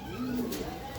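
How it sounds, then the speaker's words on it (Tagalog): Racing pigeons at a club race clocking point coo briefly and steadily up close, a single low, soft purring call rising over a continuous background hum. "Okay, kompleto na yung mga ibon natin."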